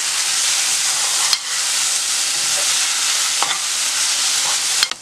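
Ground paste stirred into sizzling onion, snake gourd and drumstick in a hot pan, a steady loud frying hiss broken by a few sharp scrapes of the spoon.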